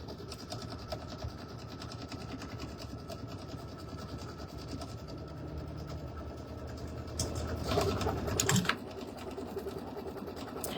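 A sewing machine runs steadily while stitching a quilted holiday table runner through batting, a continuous mechanical whir with a brief louder rattle near the end.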